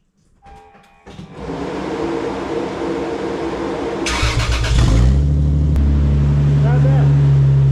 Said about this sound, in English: Let's do a quick sound check with just the Revel resonators.